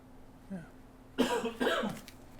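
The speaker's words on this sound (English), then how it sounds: "you get that cough out." Two loud coughs in quick succession, close by, after a brief faint murmur.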